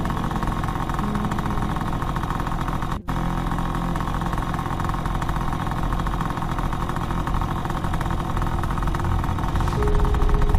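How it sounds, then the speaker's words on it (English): A motorcycle engine runs steadily at close range throughout as the bike is ridden, with a constant mid-pitched drone, a momentary dropout early on, and a slight rise toward the end. "Shavrato turns off the call and starts riding the motorcycle towards that address."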